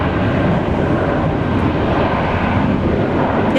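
Jetstar airliner in Pride livery at Brisbane Airport during a storm, a loud steady broadband engine roar held throughout, no speech.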